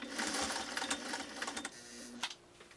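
Singer 404 sewing machine, a first edition, stitching through full grain leather, a busy mechanical run of needle strokes close by that slows and eases off near the end.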